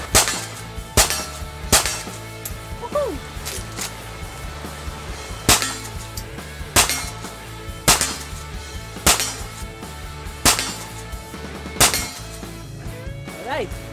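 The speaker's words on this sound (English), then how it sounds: "i-test out natin sa 38 Special na reload" A Rossi Puma lever-action rifle fires .38 Special reloads outdoors: about ten sharp, loud shots at irregular intervals, some close together, with lever-cycling clanks and a faint ringing tail after several reports.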